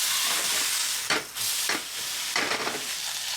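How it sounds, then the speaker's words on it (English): Chopped shallots hit a hot pan and sizzle with a loud, steady hiss, broken by a few brief stirring bursts, with no voices. "I have some chopped shallots. Put plenty of them in."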